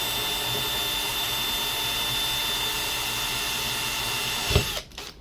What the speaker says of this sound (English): drill a suitable size hole. I use a 4 mm drill bit